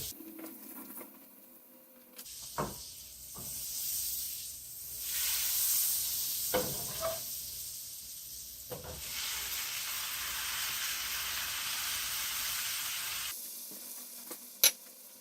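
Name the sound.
mushrooms sizzling in butter in a pan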